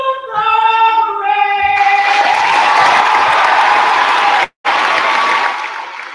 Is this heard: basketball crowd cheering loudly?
yes